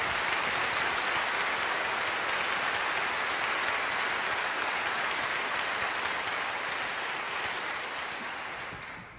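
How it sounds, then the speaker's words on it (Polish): Audience in the Szczecin Philharmonic hall applauding the orchestra after a film-music concert piece, a dense, steady wash of clapping from a large crowd that fades slightly at the end. "Wielkie brawa."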